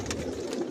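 Racing pigeons of a Janssen bloodline coo inside a loft, a soft low throaty murmur that is close and continuous for a brief moment, with no voices.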